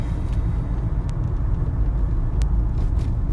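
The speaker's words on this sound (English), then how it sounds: "as I'm driving right now" A car being driven, giving a steady low rumble of engine and road noise from inside the cabin, continuous and fairly loud with a couple of faint ticks.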